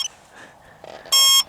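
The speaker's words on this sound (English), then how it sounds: "Ooh, beep." Electronics in a model plane give one short, bright, loud beep lasting about a third of a second, close by and alone after some quiet handling noise.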